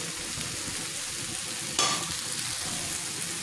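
Finely chopped green chillies and whole chillies frying on a hot tawa with okra, a steady soft sizzle throughout with one brief brighter hiss midway, no voices.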